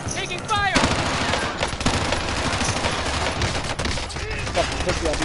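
Heavy gunfire from a video game firefight roars continuously, with dense bursts of automatic shots and explosions filling the whole stretch, while a player's voice breaks in briefly over the din.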